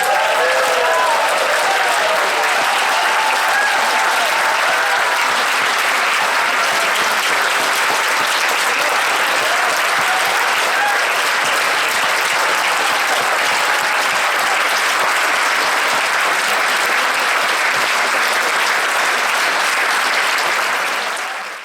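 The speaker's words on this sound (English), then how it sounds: "Give them a big round of applause." A large audience at an awards dinner claps in a sustained, dense round of applause, loud and even for about twenty seconds before tapering off at the very end.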